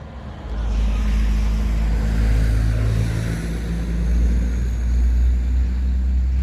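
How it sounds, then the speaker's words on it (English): A heavy engine rumbles loud and close, a deep steady drone that swells as a large vehicle passes nearby. "Truck's right on us."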